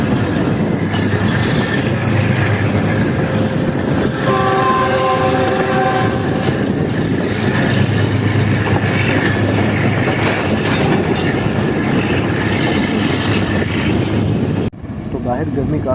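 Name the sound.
Fareed Express train accelerating onto main line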